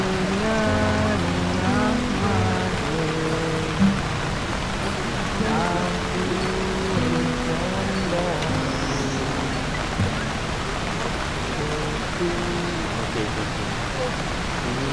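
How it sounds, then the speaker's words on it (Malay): Rain falls steadily at Laman Rindu campsite, Sg Bil, a continuous hiss of drops running through the whole stretch, with voices talking over it. "Semua santai-santai dulu. Layan hujan."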